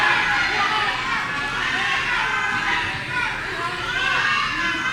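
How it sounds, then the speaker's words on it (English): A wrestling crowd at a tag-team championship main event roars and chatters without a break. Dense, steady cheering and shouting fills the whole stretch at an even, loud level, with no lulls. "And the crowd is losing their freaking minds over here."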